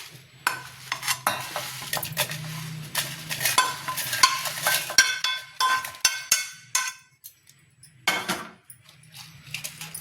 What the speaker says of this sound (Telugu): ఇలా ఎండుమిర్చి లైట్గా ఇలా వేగుతాయి